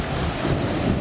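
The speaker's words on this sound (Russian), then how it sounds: "Смотри, какая волна." Stormy sea waves surge on the coast of Crete, heard as a loud, continuous roaring wash heavily buffeted by wind rumbling against the microphone.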